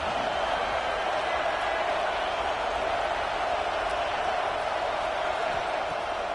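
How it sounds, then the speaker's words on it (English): A stadium crowd at a football game roars in a dense, steady wash of cheering. The noise sounds distant and constant while the offense drives in the red zone. "this crowd is turning it up a notch"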